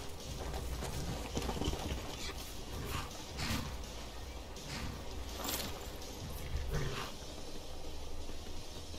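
A horse trots in Skyrim, its hooves clip-clopping in a steady, moderately close rhythm over an outdoor ambience, with no talking.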